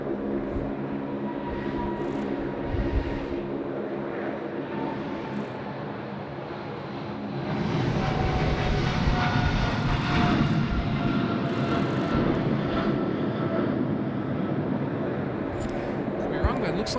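A British Airways Boeing 777 starts its takeoff roll at Sydney Airport, a broad engine roar that swells and grows louder about halfway through, heard at a distance with voices over it.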